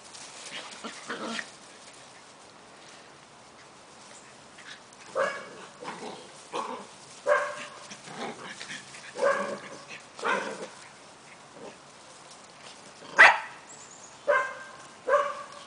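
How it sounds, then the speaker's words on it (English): A dog barks repeatedly at close range, sharp yips and barks in uneven bursts with short gaps between them. "you hear Miss Mia barking, huh?"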